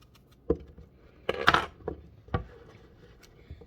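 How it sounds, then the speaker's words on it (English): A few sharp knife chops through apple on a cutting board, irregularly spaced, with a brief clatter of crisp cutting in the middle; close and quiet otherwise. "finish chopping up the last apple here"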